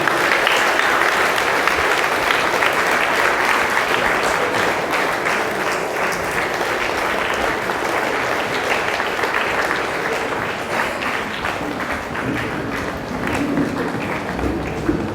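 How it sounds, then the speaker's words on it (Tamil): A large hall audience applauds loudly and without pause for about fifteen seconds while a district judge is honoured with a shawl at a ceremony for successful Group II exam candidates. "உங்களுடைய பலத்த கரகோஷங்களுக்கு இடையில்"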